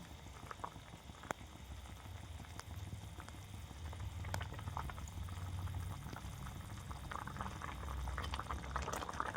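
Fish curry gravy with pomfret in mustard and poppy seed sauce bubbling in a pan, a soft continuous simmer with scattered small pops and crackles, fairly quiet and close.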